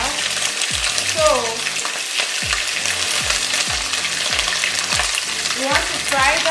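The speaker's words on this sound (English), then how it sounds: "I'll go ahead to fry it" Canned sardines frying in a hot pan alongside sausage, a loud continuous sizzle with repeated scraping and stirring strokes at a steady rhythm, close by.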